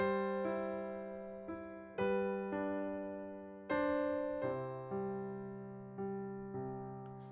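Piano playing the closing phrase of the hymn "It Is Well" with both hands, with a series of sustained chords struck about every second or so, each ringing out and decaying, close and clear with no voices.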